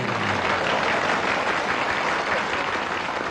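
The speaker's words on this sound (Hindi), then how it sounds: "तालियां।" A dense, steady burst of audience applause following a joke in a Hindi film scene, even in level across the whole stretch with no distinct voices.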